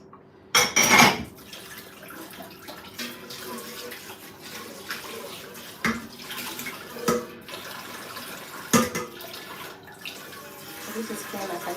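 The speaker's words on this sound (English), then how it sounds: "So I'm gonna add some water to this." Water pours into a cooking pot of mixed beans and corn in a few short splashing bursts, with light clinks of the pot and utensils between them and a steady low background.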